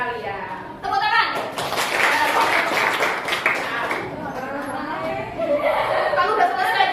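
A classroom of students clapping after a game during a lesson, a burst of applause mixed with chatter, chuckles and children's voices, close and lively.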